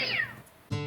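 A cat gives a single clear meow close by, its pitch sliding downward, followed after a short pause by an abrupt, steady buzzing tone.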